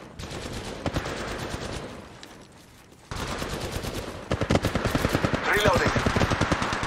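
Rapid automatic gunfire in the mobile battle royale Apex Legends Mobile comes in loud, close, sustained bursts, with a short lull in the middle before the shooting resumes even more densely.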